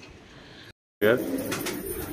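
Pigeons cooing close by, following a brief silence, with a voice talking over them.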